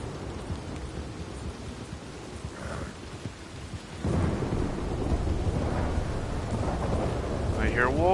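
Heavy thunderstorm with rain in the video game Red Dead Redemption 2: continuous loud downpour hiss with low rolling thunder rumble, building louder partway through, with a faint animal cry near the end.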